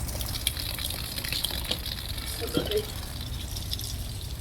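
Water runs from a hose attached to a tap while a car is washed, a steady gushing and splashing under a voice.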